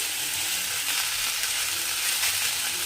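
Spring onion stalks frying in a pan for a Bengali dish, a steady close hiss and sizzle with faint stirring and no voices.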